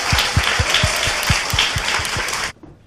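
A live audience breaks into dense, loud clapping that runs steadily for a couple of seconds before cutting off abruptly into near silence.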